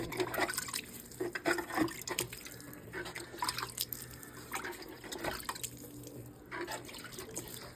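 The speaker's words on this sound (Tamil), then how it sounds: "கொஞ்சம் லைட்டாக தண்ணி தெளிச்சு விடுவோம் விதை போட்டதுக்கப்புறம்." Water lightly sprinkled over freshly sown spinach seeds on a farm plot gives a steady, close patter of drips and splashes, with no talking.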